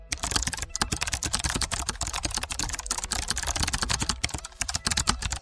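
Rapid, irregular tapping of keys while a mobile number is entered on a phone keyboard, close and continuous with short pauses, no voices.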